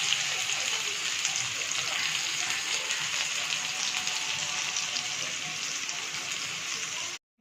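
Chopped onions hit hot oil in a pan already holding cinnamon, cloves and bay leaf for a soya curry, giving a loud, steady hiss and crackle of frying that runs unbroken for about seven seconds, with no talking.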